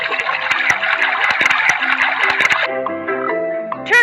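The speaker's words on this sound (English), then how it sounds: "Add some water." Cartoon water gushing and pouring steadily into a concrete mixer, a loud splashing rush with bright plinking accents that stops abruptly partway, leaving soft musical tones behind.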